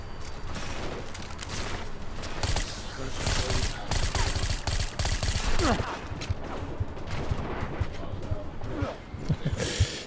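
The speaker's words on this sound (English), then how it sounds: "Who's shooting?" Gunfire rattles through a firefight in Deus Ex: Mankind Divided, rapid repeated shots and bursts over a busy game soundscape while someone talks over it.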